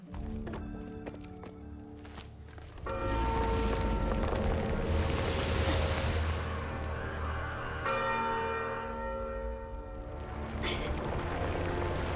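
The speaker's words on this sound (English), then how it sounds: "Gotta get up there and ring that bell." A bell rings in the video game South of Midnight, with loud, sustained metallic tones swelling over a windy ambient bed and struck again near the end, all fairly close and resonant.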